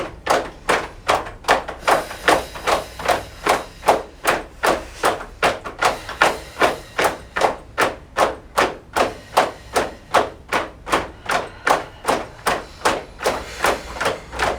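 Rhythmic hand tapping on the body during a mindful movement exercise, a steady train of evenly spaced soft thumps, roughly two per second, close and continuous with no talk.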